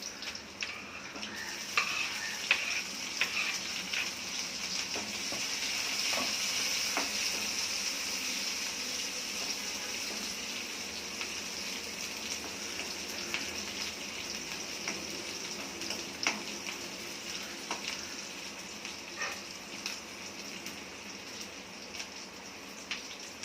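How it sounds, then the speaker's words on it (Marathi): Garlic and chillies frying in a pan for a quick okra (bhindi) vegetable dish, a steady soft sizzle with scattered ticks and pops of stirring, moderately quiet and continuous, no voices. "लसूण जरा सोनेरी कलरचा झाला की मग मिरची टाकायची"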